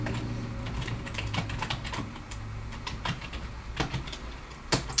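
Commands are typed on a computer keyboard while configuring a network switch, a steady patter of close key clicks with occasional louder spacebar or enter strikes over faint background hum.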